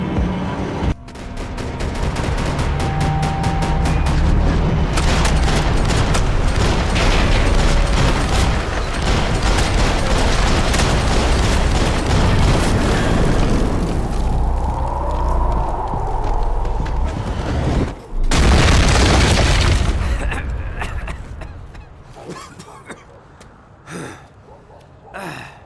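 Gunfire from the video game Max Payne 3: sustained loud bursts of shots and booms fill most of the clip, with a brief pause near the end before scattered shots trail off.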